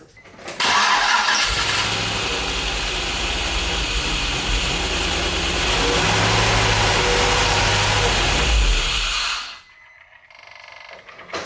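A Nissan 350Z engine cranks and fires, then runs steadily at a close, loud idle for about nine seconds before cutting off abruptly, with only faint room sound afterward.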